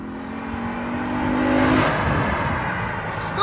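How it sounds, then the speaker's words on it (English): A 2015 Lexus RC F with its 5.0L V8 and aftermarket exhaust valves closed drives past, a smooth muffled engine hum that swells and fades over a few seconds. "This is with the valves closed, drive by."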